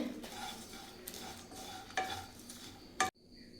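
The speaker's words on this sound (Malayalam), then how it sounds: "നന്നായിട്ടൊന്ന് ഇളക്കി കൊടുക്കുകയാണ്" Spice powder for prawn pickle stirred in a pan over a low flame: soft close scraping and faint sizzle, with a few sharper spoon knocks against the pan before it cuts off.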